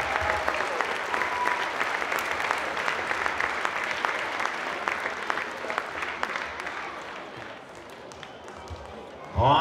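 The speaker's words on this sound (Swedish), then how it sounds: "Och ledare på detta laget som förtjänar applåder." A crowd at a handball club's season-ending event applauds the team leaders in a dense, steady burst of clapping that tapers off slightly near the end.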